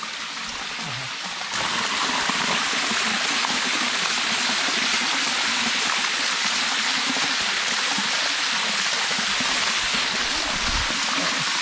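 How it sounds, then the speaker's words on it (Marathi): An Alaskan waterfall's steady rushing roar fills the scene, loud and continuous, swelling slightly after the first couple of seconds. "आणि इथे हे मस्त धबधबा आहे एक"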